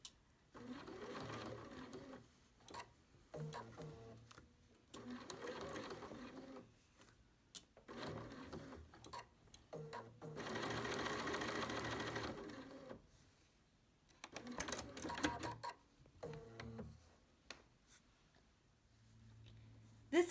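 BERNINA sewing machine fitted with a #88 bias binder attachment stitching a fabric face mask, running in repeated bursts of steady mechanical whirring separated by short pauses, close and clear, with no talking.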